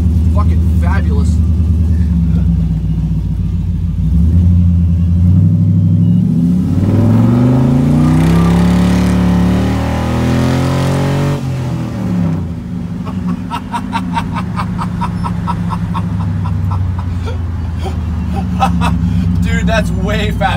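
A tuned truck with a 6-liter engine accelerates hard during a ride, its rumble climbing steadily in pitch, then settling back to a cruising drone, heard from inside the cab under ongoing conversation.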